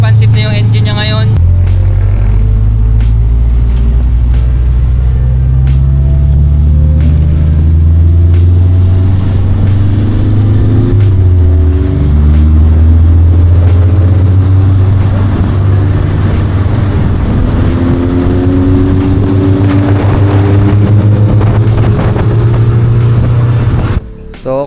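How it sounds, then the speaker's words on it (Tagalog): An owner-type jeep, freshly tuned with its belt adjusted and timing set, idles with a loud, deep engine drone and rises and falls through several revs, its pitch sweeping up and back down. "So mas responsive na yung engine niya ngayon."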